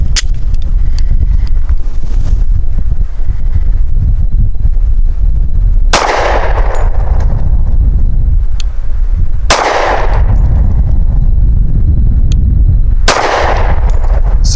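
American Classic Commander 1911 pistol firing 185 grain Hornady Critical Defense rounds outdoors: three loud, sharp gunshots spaced a few seconds apart, each with a short echoing decay over steady wind rumble.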